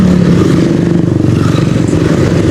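Busy road traffic with motorcycles on a rural village road near Bogor, Indonesia, a close, loud mix of droning engines and rumble passing continuously.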